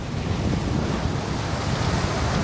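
Waves slap and spray hisses steadily against an Excess 13 catamaran sailing upwind under a code zero, a loud, dense wash of water mixed with wind buffeting the microphone, with no voices.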